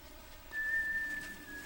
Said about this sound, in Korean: 뒷모습을 보이며 걸어가는 보리에게서 휘파람 소리가 들린다.